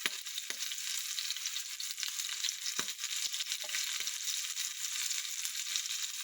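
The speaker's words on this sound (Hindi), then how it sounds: "अभी मैं इसको रवे में, इसमें तेल में डाल दूंगी।" Semolina-coated prawns fry in hot oil with a steady, close sizzle and a few sharp crackles and pops scattered throughout. No one speaks.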